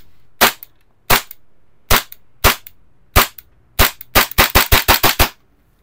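Krytac Kriss Vector airsoft gun shooting: six single crisp shots spaced about a second apart, followed by a rapid burst of roughly seven snappy shots, close and loud.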